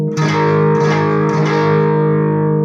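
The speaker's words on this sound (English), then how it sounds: "the chord you get is it's called a sus4 chord, a suspended 4th" Guitar sounding a suspended fourth chord from a lesson on a song intro, played with a distorted, effects-laden tone; a few strums ring out loud and sustain alone.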